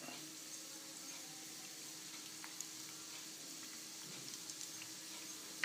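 Mustard seeds, pepper, cumin, green chilli, ginger and asafoetida crackle faintly in hot oil as tempering for Srirangam rava pongal, a soft steady sizzle dotted with a few sharp pops.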